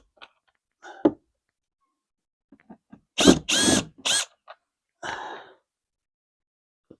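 A power screwdriver backs Phillips screws out of a window frame in short ratcheting whirs of about a second each, heard close in a quiet room with small clicks and handling noises between bursts.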